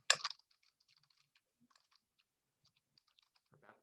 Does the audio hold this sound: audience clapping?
no